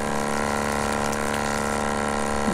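A GuzzleH2O Stream pump forces filtered water into a tank outdoors in Michoacan, Mexico, giving a steady, close, loud droning hum with rushing water and no pauses.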